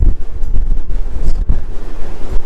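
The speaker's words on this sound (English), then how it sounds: "And it is extremely windy up here." Strong, steady wind on the front deck of a cruise ship roars and buffets the microphone, with gusty rumbling low-end noise throughout and no talking.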